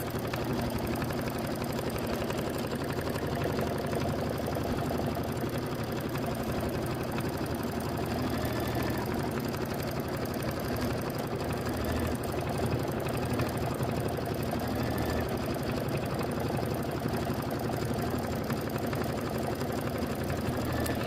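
A sewing machine stitches a Kimberbell lemonade quilt block in one steady, unbroken mechanical whir that runs at an even level throughout, with no voices.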